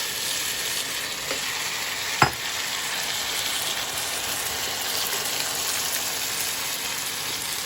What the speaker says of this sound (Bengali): মাংসটা আবার আমি কষতে থাকছি